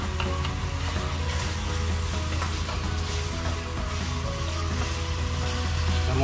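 Onion tipped into a hot frying pan for a sweet, sour and spicy chicken dish hisses in a steady, dense sizzle that holds evenly throughout, close and loud with no voices.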